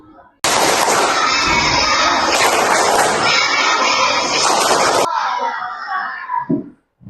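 Schoolchildren in a classroom break into loud, dense rhythmic clapping and shouting that lasts about four and a half seconds and then stops abruptly, leaving scattered voices and noise.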